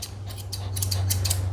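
Grooming scissors trim the fur of an old Coton de Tulear, a few quick, light snips close by, spaced irregularly over a steady low hum.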